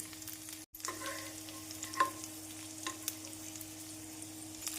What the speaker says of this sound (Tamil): நாம் அனைத்து வெண்டைக்காயும் வதக்கி எடுத்து விடலாம்